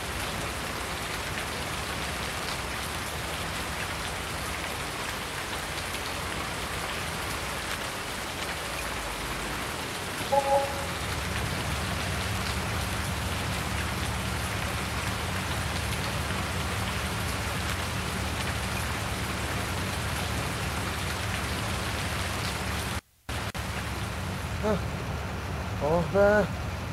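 Steady, dense rainfall in Farming Simulator 19 patters evenly throughout, with a low rumble underneath and a brief dropout near the end.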